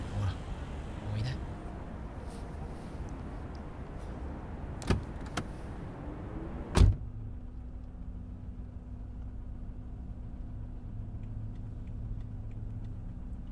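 Inside a car on a cold night, with a door thump, rustling and a few clicks before the door shuts and the cabin falls to a low, steady engine hum; a voice speaks throughout.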